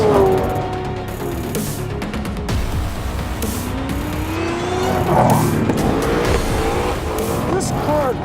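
A 2020 Ford Mustang Shelby GT500 is driven hard on a race track, its engine roaring loudly and rising and falling through the gears while tires squeal in the corners. Someone talks over the noise.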